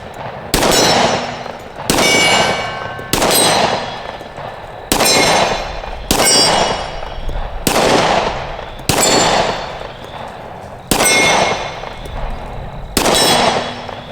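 Repeated loud shots from a Smith & Wesson M&P 2.0 10mm pistol, about ten evenly spaced reports, each followed by a bright metallic ring from a struck steel target, heard outdoors with no talking.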